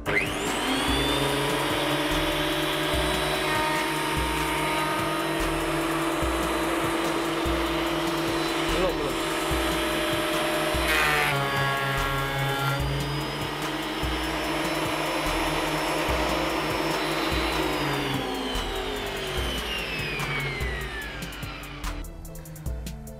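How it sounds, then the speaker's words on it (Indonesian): Loud, steady whine of a Stanley STP18 thickness planer feeding a 26 cm wide board of soft Dutch teak, continuous motor roar with a pitch shift midway, close and constant until it winds down at the end. "menyerut papan yang selebar 26 cm, jati Belanda, kayu yang tergolong masih lunak"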